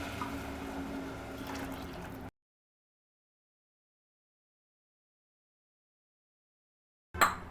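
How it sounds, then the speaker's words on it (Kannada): Water pours steadily into a pressure cooker of rice for about two seconds, then silence, followed by a brief clatter at the end. "ಸೊ ನಾನಿಲ್ಲಿ 6 ಗ್ಲಾಸ್ ನೀರು ಹಾಕ್ತಾ ಇದ್ದೀನಿ"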